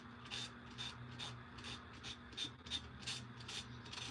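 A small detail sander works along the edges of a patriotic craft piece, producing a steady run of soft, rhythmic rasping strokes that repeat about twice a second at close range.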